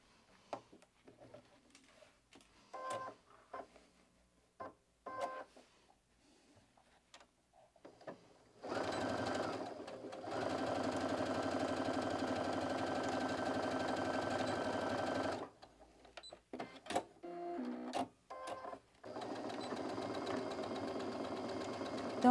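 A sewing machine closing the side seam of a fabric organizer, with scattered handling clicks and rustles before two long, steady runs of humming stitching separated by a brief stop.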